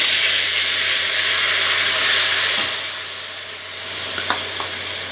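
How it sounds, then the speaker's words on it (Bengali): Ginger garlic paste frying in a pan for mango pickle, a continuous close sizzle and hiss with faint stirring scrapes, no talking. "আদা রসুন বাটাটা একটু ভাজা ভাজা করে নেব"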